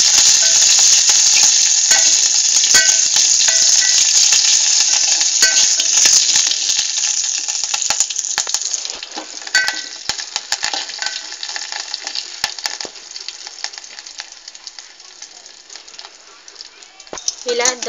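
A tempering of curry leaves and coriander sizzles and crackles loudly in hot oil for peanut chutney, a dense close frying hiss with scattered pops and stirring scrapes that gradually thins out toward the end.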